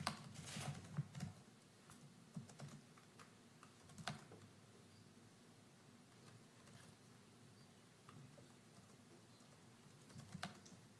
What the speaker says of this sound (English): he's typing out the order